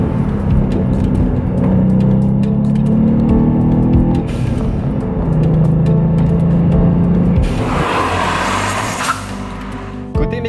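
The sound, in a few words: Volkswagen Up! GTI 1-litre three-cylinder TSI engine driven hard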